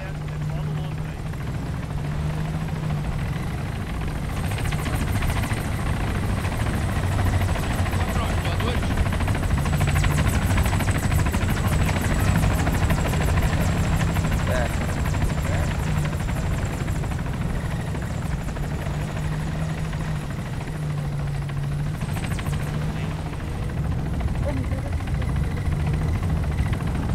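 Steady, loud helicopter engine and rotor drone in the video game Arma 3, throughout, with voices talking over it.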